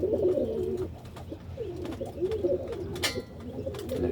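Pigeons coo nearby in repeated soft, throaty calls, one following another, with faint rustles and flutters around them.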